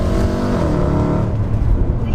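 A high-mileage Mercedes C63 AMG engine revs loud and close, a rich rumbling exhaust note that fades down with faint crackle, and a voice talks over it.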